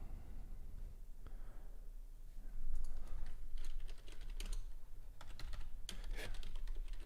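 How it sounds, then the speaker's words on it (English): Steady typing on a computer keyboard, quick irregular key clicks in bursts against a low background hum, no voices. "If you do hear typing, that's just me making alerts in my private trading community"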